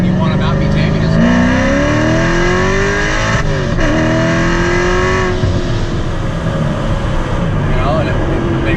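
A modified 700 whp C7 Corvette Stingray accelerates hard, its loud engine note climbing steadily in pitch through the gears with a brief dip at a shift, continuous and close.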